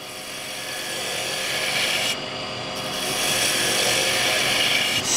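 Spindle gouge cutting sappy wood on a lathe, a steady loud rasping scrape that runs continuously and swells slightly toward the end, with a brief dip in the highest hiss midway.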